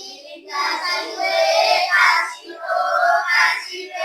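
A classroom of students performs the rhythmic 'tepuk wow' clap-and-cheer, with group claps and voices chanting together in short repeated bursts that rise and fall over a few seconds.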